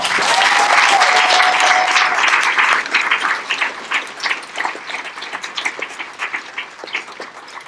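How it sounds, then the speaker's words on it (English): Loud, dense applause from an audience honoring veterans at a US Air Force basic military training graduation ceremony, starting as a full roar and thinning into scattered, more distinct claps toward the end. "Let's give them a round of applause"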